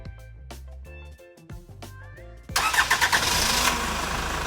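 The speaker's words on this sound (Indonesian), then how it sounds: "Nah ini mesinnya sudah hidup ya" A 2025 Honda HR-V 1.5 E+ facelift engine started by remote: a loud abrupt crank and catch that settles into a steady idle, following a few seconds of background music.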